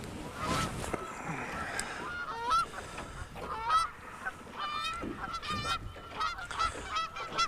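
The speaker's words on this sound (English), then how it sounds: "it is that time of the year for the geese, mating season, and they get noisy." Geese honking noisily during mating season near a boat fishing spot, repeated overlapping calls from several birds at moderate distance over steady outdoor background noise.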